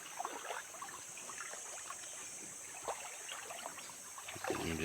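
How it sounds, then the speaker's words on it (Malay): A small river flowing at a spot where fish traps are set, with a soft, steady trickle and dribble of water close by, faint and continuous, with a few brief splashes. "Sungai yang kecil lah."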